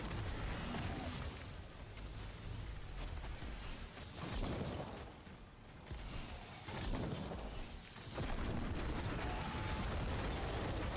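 Dense, continuous game effects from an Abyss Hell Fracture Warlock build in Diablo 4, with explosions and bursts stacking into a loud, unbroken roar that dips briefly twice before surging again.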